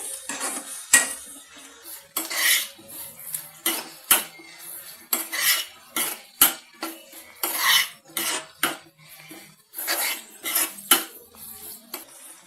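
A spatula stirs okra (ladies finger) palya in a pan, producing repeated close metallic scrapes and clinks in an uneven rhythm of stirring strokes.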